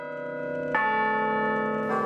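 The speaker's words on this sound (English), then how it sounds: "It has a carillon of 51 bells, the largest of which weighs 4 tons." Carillon bells ring out from Soldiers' Tower, a 51-bell carillon at the University of Toronto, with two strong bell strikes whose rich harmonic tones sustain and overlap, loud and clear with no voices.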